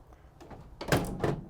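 Rear door of a 2016 Vauxhall Vivaro van swung shut, a soft rattle followed by two solid thuds about a third of a second apart, close and moderately loud.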